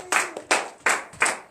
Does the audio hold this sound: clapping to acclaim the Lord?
yes